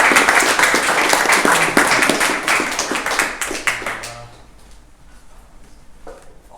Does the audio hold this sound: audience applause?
yes